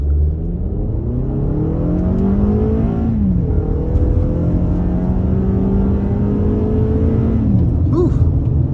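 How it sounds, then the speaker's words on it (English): A 2022 Toyota RAV4 XLE pulls away hard from a standstill, its engine drone climbing steadily and dipping at two smooth gear changes, heard continuously from inside the cabin. "We can try an acceleration off the line right here as soon as we come to a complete stop."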